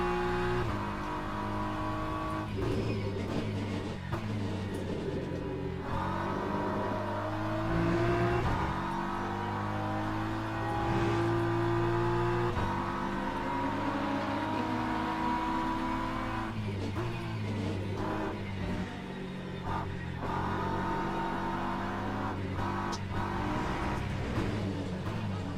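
A hypercar engine roars in the RC Pro racing game, revving and shifting in rising and falling sweeps, loud and steady throughout with no pauses.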